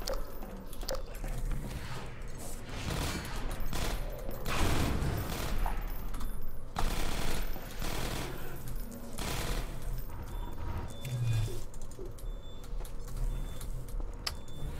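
Automated turret machine-gun fire in Half-Life 2: Episode One: sustained, rattling bursts of rapid shots with mechanical whirring, running continuously and loudly for most of the stretch.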